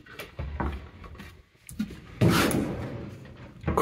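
A cutlery drawer sliding open in an apartment kitchen, a short wooden rumble and rattle of utensils, close by, following a few soft handling knocks.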